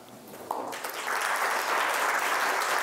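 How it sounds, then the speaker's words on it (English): Applause for a speaker after a talk at a conference, a dense, steady wash of clapping from a crowd that swells within the first second and holds evenly throughout. "Another round of applause for that one."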